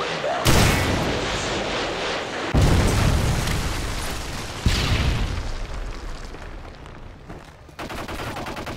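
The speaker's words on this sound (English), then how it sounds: "Friendly Predator missile inbound." Predator missile strikes in a Modern Warfare 3 team deathmatch hit as three loud, heavy booms about two seconds apart, each followed by a rumbling, crackling wash of battle noise and gunfire.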